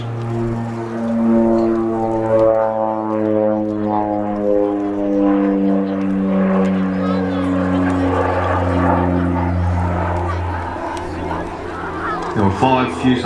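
An OV-10 Bronco propeller aircraft flies at the Midlands Air Festival, producing a loud, steady, droning propeller hum whose pitch slowly shifts as it passes, with no quiet gaps.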